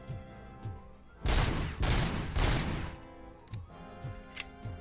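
Paint tins bursting after being shot in RoboCop: Rogue City, a loud rushing blast of explosive noise in a few heavy surges lasting about two seconds, framed by quieter clicks and a low game background.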